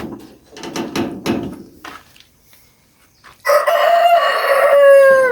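A rooster on a chicken farm crows once, loud and close, in a long wavering call that fills the second half, after a stretch of low clattering, knocking and quiet.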